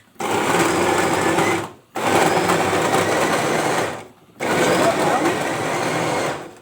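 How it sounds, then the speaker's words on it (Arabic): A kitchen blender whirs loudly in three bursts of a couple of seconds each while blending tomatoes, separated by short pauses. "المره دي بقى كده هضربها في الخلاط على طول واسبكها"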